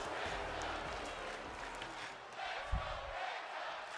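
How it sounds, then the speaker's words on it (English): A video-game arena crowd in WWE 2K25 chants for Penta, a steady wash of massed voices that stays loud throughout, with a brief thud partway through. "huge Let's Go Penta chants from the crowd"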